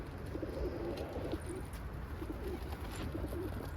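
Soft, repeated cooing of flight pigeons on a rooftop loft, a low rolling murmur in steady bursts against a faint outdoor background.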